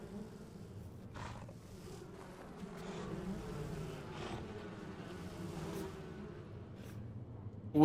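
Bees buzz in a dinosaur survival video game, a steady low drone with wavering pitch that swells slightly midway, accompanied by faint rustles and soft ticks, without talk.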